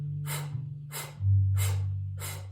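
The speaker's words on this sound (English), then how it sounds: "And then 8 quick bursts of exhale." Four sharp, forceful nasal exhalations during a breathing meditation, spaced evenly about two-thirds of a second apart over a low steady drone, close and clear with no talking.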